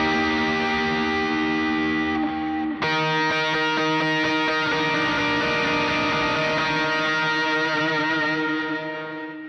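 Heavy, high-gain electric guitar on its third distortion stage with chorus switched off, playing sustained thick chords that restrike hard near three seconds and ring loud and dense to the end, with no talking.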